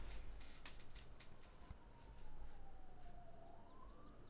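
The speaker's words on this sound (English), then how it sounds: "Sirens. That's groovy." A siren wails in Farming Simulator 22, a faint rising and falling tone that sweeps through the clip behind a steady game background of engine and ambient noise.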